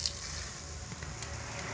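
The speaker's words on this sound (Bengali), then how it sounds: "গরম তেলের মধ্যে গোটা তেজপাতা দুটো দিয়ে দিচ্ছি" Two whole bay leaves hit hot oil in a pan and set off a brief, steady hiss of frying.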